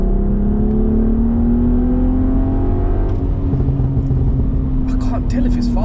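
A Volkswagen Passat R36 with a VR6 engine and aftermarket exhaust accelerates, a steady rising drone heard loud and close from inside the car, with brief sharper bursts near the end.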